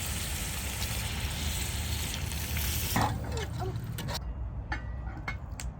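Over a wood fire, a crab curry with tamarind and coconut milk bubbles and sizzles with a close, steady, watery crackle, and a few sharp clatters near the end.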